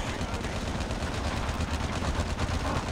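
Dense, continuous rattle of rapid automatic gunfire with a steady low rumble, loud and unbroken across the whole stretch, in Call of Duty zombies mode.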